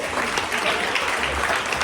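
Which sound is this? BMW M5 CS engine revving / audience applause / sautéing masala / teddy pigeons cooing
audience applause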